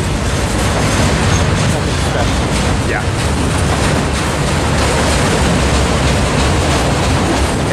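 A freight train rumbles past at close range on Tehachapi Pass, a loud, steady roar with wheel clatter lasting throughout; a person speaks briefly over it.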